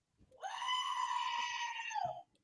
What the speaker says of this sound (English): Adeena, the Screaming Goat.